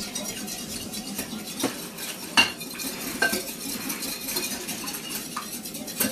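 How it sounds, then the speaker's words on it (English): Egg yolk whisked in a bowl while making strawberry orange streusel muffins, soft continuous stirring with a few sharper clinks of the utensil against the bowl, close and fairly quiet, no talk. "Going to break that yolk and then give this a good whisk so that everything is well combined."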